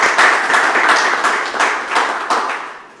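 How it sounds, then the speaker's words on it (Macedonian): An award ceremony audience breaks into brief applause, a dense burst of clapping that tapers off over about three seconds. "Аплауз за МК 2000."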